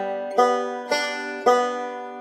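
Banjo picks a forward-backward roll in eighth notes, three bright plucked attacks ringing out in a steady rhythm, close and alone.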